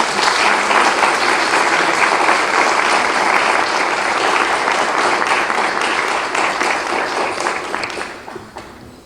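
A large audience at a Mexican national nutritionists' day ceremony claps steadily and loudly for about eight seconds, the applause thinning and fading at the end.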